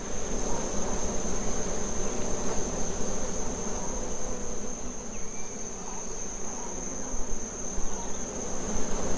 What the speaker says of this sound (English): The air around this carcass is thick with the buzzing of flies and the smell of death.